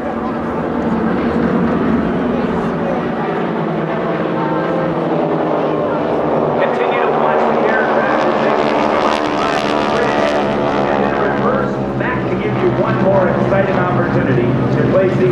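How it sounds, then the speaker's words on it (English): GEICO Skytypers World War II-era propeller aircraft sweep past in a fan pass at the AirPower Over Hampton Roads air show, a loud, steady engine drone that swells midway, with announcer talk over it. "Keep your eyes on the Skytypers for the fan pass."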